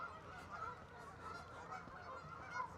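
A large flock of geese honks loudly and nonstop outdoors, with overlapping calls rising and falling in a constant clamor.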